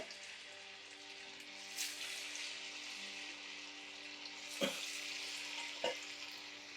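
Medu vada fry in hot oil, a soft continuous sizzle and bubbling with a few louder crackles and splashes as batter settles, heard close and fairly quiet with no talking.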